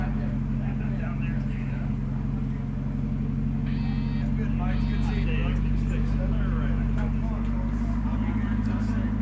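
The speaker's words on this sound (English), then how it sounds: "There goes the ZR1." A Chevrolet Corvette ZR1 at a Carlisle Corvette show drives past with a steady low engine drone that swells slightly toward the end, while people talk nearby.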